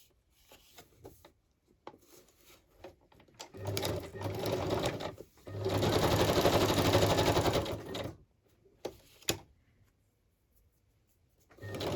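Sewing machine stitching a small fabric pocket in a home craft session, running in two bursts of steady whirring, the second longer and louder, with brief handling clicks between.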